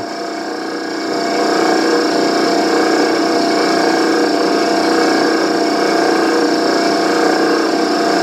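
A drill bit, oiled, bores steadily through the workpiece for a camera mount, a close, continuous mechanical whine that steps up in level after the first second and then holds even, with no talking.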